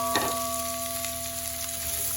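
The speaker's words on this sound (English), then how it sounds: "Onion is being fried." Diced onion frying in a little oil for a vegetable stew gives a soft, steady sizzle with a faint tick near the start, alongside a constant electrical hum, no voices.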